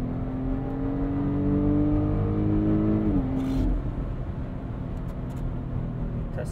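A 2024 Porsche Cayenne SUV accelerating on a wet road, with a steady engine drone that climbs in pitch, shifts once, then settles into road and tyre noise, heard from inside the cabin without talking.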